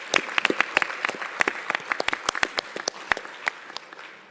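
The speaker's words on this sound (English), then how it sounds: "I'll give them a round of applause" A panel of speakers receives a round of applause at an academic talk, with distinct, fairly sparse hand claps from a modest audience rising and falling steadily.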